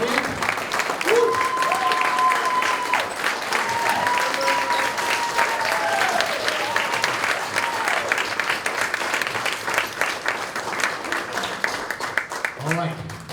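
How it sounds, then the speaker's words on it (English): Applause and cheering from the crowd at a Linden Fire Department junior fire academy graduation ceremony, sustained and loud throughout, with voices and a whoop heard over the clapping. "Clap again."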